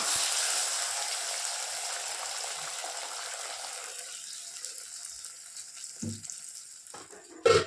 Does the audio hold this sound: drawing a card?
no